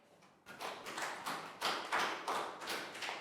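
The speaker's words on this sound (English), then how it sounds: "Big round of applause for Nadia, guys." A primary school class claps in a steady burst of applause, many small hands patting in quick repeated bursts that swell and pulse for a few seconds, close and fairly quiet, with no talking over it.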